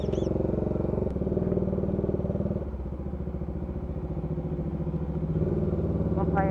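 A Bajaj Dominar 400 motorcycle engine idles steadily close by in a mall parking lot, a dense low rumble with a slight dip and recovery in level, while a voice speaks briefly over it.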